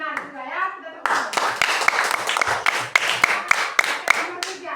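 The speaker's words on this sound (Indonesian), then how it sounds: "Kita tepuk tangan." Schoolchildren in an elementary classroom clap their hands together in a quick, uneven burst of sharp claps, preceded by a voice and with brief chatter woven through.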